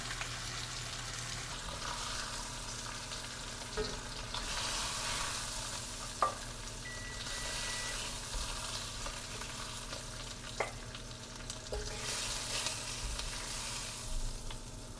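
Short ribs searing in a hot skillet give a steady, broad sizzle for the whole stretch, with occasional clinks and scrapes as the meat is turned; no talking over it.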